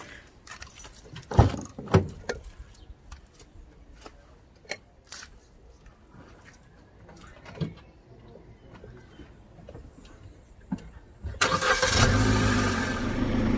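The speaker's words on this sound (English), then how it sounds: "Turn on engine, turn AC on full" A car engine starts after a string of clicks, knocks and handling noises inside the vehicle, then a steady, louder rush of engine and air conditioning fan comes in near the end.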